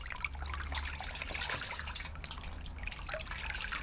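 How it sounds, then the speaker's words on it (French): Water poured around a potted Cattleya orchid in bark, a soft close trickle and patter of liquid running steadily, faint and continuous. "Donc on arrose bien tout autour là, pour bien humidifier la plante"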